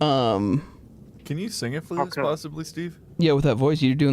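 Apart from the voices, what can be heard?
None of the usual background noises is heard.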